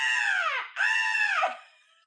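A voices an imitation of an eagle scream: two loud, shrill, harmonic cries, each bending downward at the end, the second trailing off into quiet.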